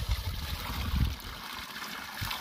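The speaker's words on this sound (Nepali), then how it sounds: "यहाँ एकदम नेचुरल मिनरल वाटर हो" Natural mineral water from a mountain spring in the Rolpa hills trickles and gurgles steadily, a close, continuous watery wash with no voices.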